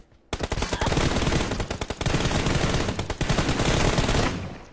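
Loud, sustained automatic gunfire from a shooter video game, rapid bursts running almost without pause for several seconds and then cutting off.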